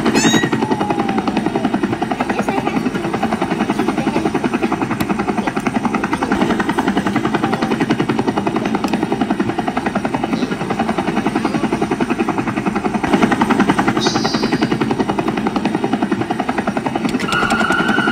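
A helicopter's engine and rotor thrum loud and close, a steady dense pulsing drone holding throughout with little variation.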